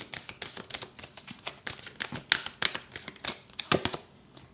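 Tarot cards are shuffled and drawn by hand, a close run of quick riffling flicks and papery snaps in an irregular rhythm, fairly quiet with no talk.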